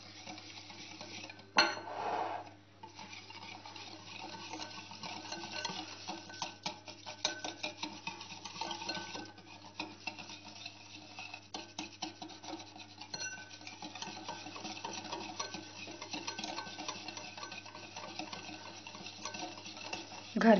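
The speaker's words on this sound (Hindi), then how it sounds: "तो अब हम अच्छे से विस्क की मदद से शुगर मिक्स कर देंगे।" A whisk beating 2 to 3 spoons of sugar into a mixture for sweet dahi baray, giving a steady, close clatter of rapid scraping and tapping against the bowl, with one sharper knock near the start.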